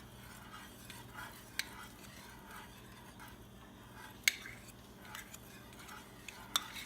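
A whisk works through mousse mixture in a bowl, giving soft, quiet stirring and scraping with a few sharp clinks of metal against the bowl.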